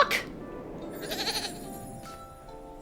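A goat in the video game Little Goody Two Shoes bleats once in a short wavering cry, close and moderately loud over faint game ambience, with no talk.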